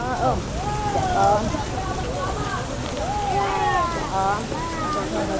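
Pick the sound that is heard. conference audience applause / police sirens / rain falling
rain falling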